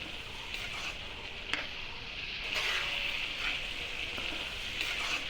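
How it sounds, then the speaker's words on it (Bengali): Soft, continuous sizzle of dried loitta (Bombay duck) fish frying in a pan over full heat, fairly quiet, with occasional small crackles and a brief clatter. "ভুনা করে নেওয়া হচ্ছে লোট্টা মাছের সুটকি"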